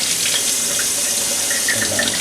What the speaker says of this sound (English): I just take it one at a time, wash it off, rinse it off really good, and put it in the pan